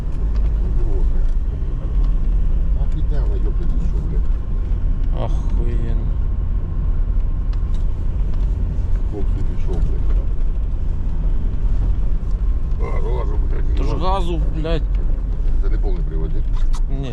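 A Kia Sorento's engine rumbles as it is driven off-road with the throttle applied, a loud, continuous low drone inside the vehicle, while voices talk over it.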